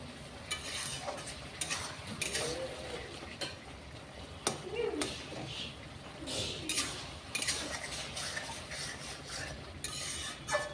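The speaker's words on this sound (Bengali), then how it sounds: "তো এবারে একটু মশলাটা ভালো করে কষানো হবে।" Masala being fried in a pan for a village-style chicken curry, with a spoon scraping in irregular strokes against the pan over a soft, continuous sizzle, close by.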